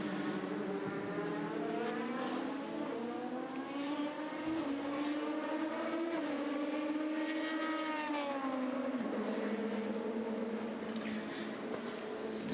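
Race car at Le Mans sweeping through the chicane, a loud, continuous engine note with rising and falling pitch sweeps and gear changes over about twelve seconds, close and dominant with no talk.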